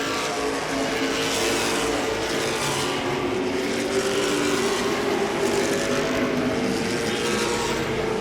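Late model race cars roar around Langley Speedway in Hampton, a dense, steady wall of engine noise from several cars racing close together throughout.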